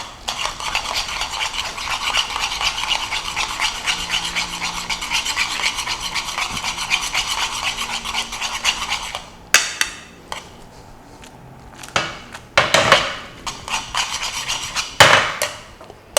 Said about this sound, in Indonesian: baru kita aduk sekuat tenaga